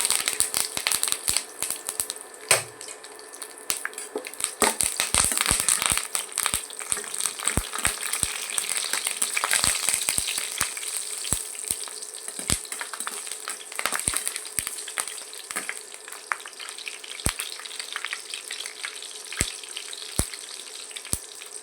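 Curry leaves, bay leaf and spices frying in hot oil for a jackfruit curry, a steady loud sizzle with crackling pops and the occasional scrape of stirring, close up and without speech.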